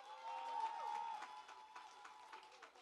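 Faint, distant applause at the Elmore Stoutt High School handover ceremony, a soft patter of scattered clapping under a steady tonal hum, thinning out over a few seconds.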